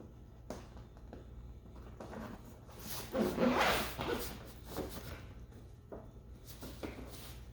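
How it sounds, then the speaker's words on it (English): Zippers on a Dirtydog 4x4 roll bar cover being zipped up inside a two-door Jeep JL hard top, several short rasping pulls heard close against a steady low hum. "So I started on the inside, so we're zipping it down and around."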